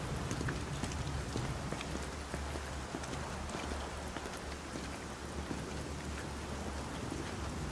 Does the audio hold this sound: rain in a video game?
yes